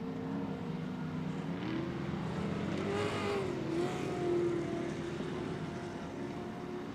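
An Ultra4 off-road race car at full throttle on a night course at the Crandon World Championship, its engine a steady, loud, sustained roar that rises and sweeps in pitch as it passes.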